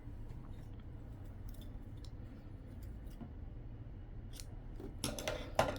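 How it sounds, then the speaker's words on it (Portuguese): Scissors snip crochet yarn on a women's crochet vest after shoulder seaming, two or three crisp close cuts at the end following a quiet stretch of faint handling noise. "Agora, esse fio eu já posso cortar."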